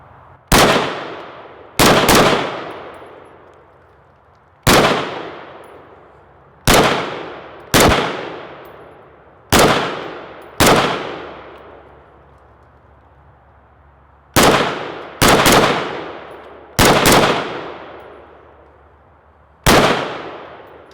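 A Steyr AUG bullpup rifle fitted with an ACOG scope fires about a dozen loud, close single shots at an irregular pace, some in quick pairs, each with a sharp crack and short echoing decay outdoors.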